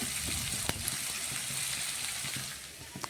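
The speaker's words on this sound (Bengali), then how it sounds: "কিছুটা শুকনো লঙ্কা আমি পেঁয়াজের মধ্যে দিয়ে দিলাম।" Dried red chillies drop into frying onions in a pan, producing a soft, steady sizzle with faint crackles and a few small pops, quiet and unbroken without talk.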